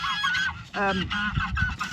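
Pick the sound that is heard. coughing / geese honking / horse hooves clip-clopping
geese honking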